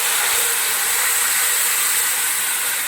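Water is poured into a hot karai holding hilsa fish coated in mustard and green chilli, raising a loud, steady hiss of steam and sizzle that runs unbroken from start to finish, with no talking.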